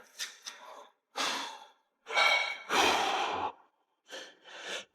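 Heavy breathing during a rest pause in a heavy chest workout, several loud close sighing breaths and exhales in separate bursts with short silences between.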